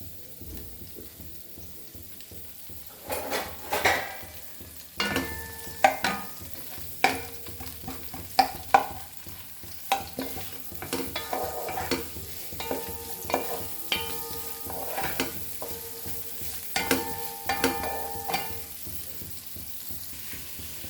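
White and red onions fry in a pan for Goan chicken rossa, sizzling close while a utensil stirs and scrapes in frequent irregular bursts, with clanks against the pan.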